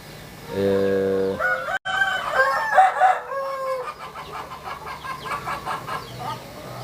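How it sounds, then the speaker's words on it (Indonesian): Backyard chickens at feeding time on a home farm: a rooster crows loudly up close, followed by a busy mix of clucking and cackling hens that continues steadily to the end. "saya akan melaksanakan kegiatan memberikan pakan dulu kepada ayam-ayam dulu ya, kepada ayam-ayam dulu"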